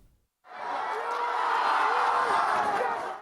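A crowd at a rugby league match between Kandes and Goroka Lahanis at the National Sports Institute roars after a brief quiet, the cheering and shouting swelling into a loud, sustained mass of voices.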